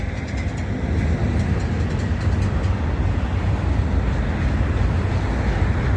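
A freight train hauling granite cars rolls past close by, a loud, continuous rumble and rattle of wheels on rails with no gaps.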